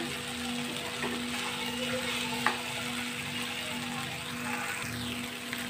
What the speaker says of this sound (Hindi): हमें इसे लगातार चमचे चलाते हुए 5 मिनट के लिए फ्राई करना है।